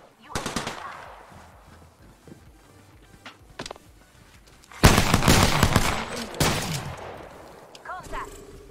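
Gunfire from an Apex Legends match comes in short rapid bursts early on and a louder, denser volley midway. Game sounds and faint speech fill the gaps between shots.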